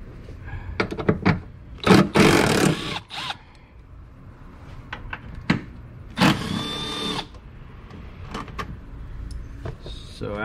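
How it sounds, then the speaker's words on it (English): A power tool whirs in several short bursts, loosening 10 mm bolts from the wiper motor of a 2013 Toyota Sienna minivan, close and loud, with clicks and handling noises between bursts and a voice talking at times. "I'm gonna remove the wiper motor with these two bolts, 10 millimeter bolt."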